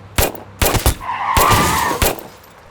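Bolt-action medic rifle fire from the World War II shooter Battlefield 5, several sharp, loud shots spaced apart, with ringing echo and a mechanical bolt cycle between them.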